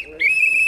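A whistle blown once, a sustained shrill tone starting about a fifth of a second in and holding steady, loud and close, with no talk over it.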